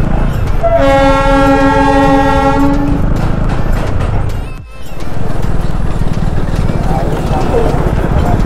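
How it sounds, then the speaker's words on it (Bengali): Darjeeling toy train passes close overhead, its loud horn blaring steadily for about two seconds over heavy, continuous rumble and wheel clatter that briefly dips before roaring on. "এই যে টয় ট্রেন যাচ্ছে ওপর দিয়ে।"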